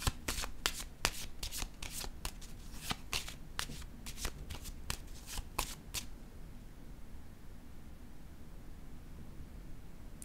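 Tarot cards shuffled by hand, a quick run of about a dozen crisp riffles and slaps over six seconds, close and quiet, followed by a soft hiss of room noise.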